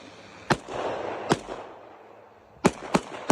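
Loud sharp gunshots fired at a drone at night crack out one at a time, irregularly spaced, with a burst of rushing noise between the first shots; no talking.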